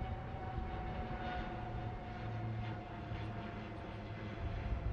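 A naval aircraft formation, the Cobra formation, flies past at an Indian Navy show, a steady roaring engine drone held throughout with no break.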